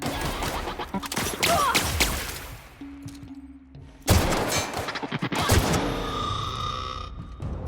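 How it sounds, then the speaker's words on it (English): Gunfire in The Outer Worlds: rapid bursts of shots and crashing impacts, loud and close, drop into a brief lull before a heavy blast and renewed firing with metallic clatter. "Nice shooting, girl. Nice shooting."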